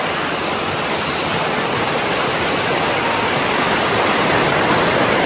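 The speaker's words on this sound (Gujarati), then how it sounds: "અત્યારે વરસાદને લીધે થોડું પાણીનો ફ્લો વધારે છે" A river swollen by rain near Rishikesh rushes in a dense, steady roar of flowing water, loud and unbroken from start to finish, with no voices.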